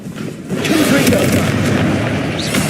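A Confringo explosion spell in Hogwarts Legacy bursts into a loud, sustained boom with a rumbling fiery tail, while a voice speaks briefly over it.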